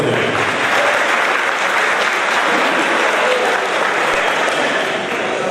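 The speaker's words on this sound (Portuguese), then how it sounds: "Uma salva de palmas para o nosso presidente." Loud, sustained applause from a large crowd at the opening ceremony of a quarter horse breeders' association circuit, clapping hands forming a thick, even roar throughout.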